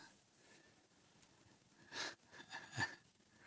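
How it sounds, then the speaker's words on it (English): A man sneezes indoors at a busy ham radio convention, giving a quiet snort followed by two sharp bursts near the end over faint background murmur. "Mark sneezing there."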